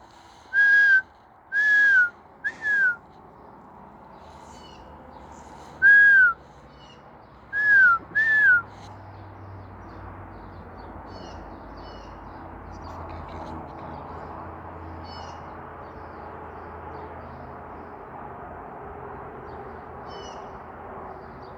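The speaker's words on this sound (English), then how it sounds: "That's the little brown bird right there." A little brown bird calls outdoors with clear, sweet whistled notes, first in a run of three, then in a group of two or three a few seconds later, followed by a long stretch of quiet outdoor background with a low rumble.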